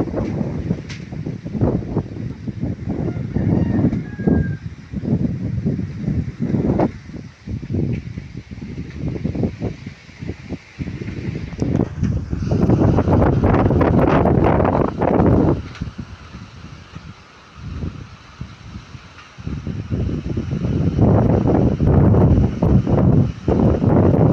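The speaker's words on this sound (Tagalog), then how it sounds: "Hangin ang malakas dito sa amin" Strong wind blowing outdoors through the night, with no rain: a loud, steady roar with rushing gusts that swell and ease, rumbling low, heard alone without talk.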